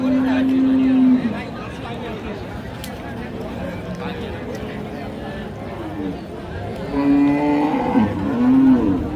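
Cattle moo at the Ambari haat cattle market, one long low moo near the start and more later, amid a busy crowd of people talking.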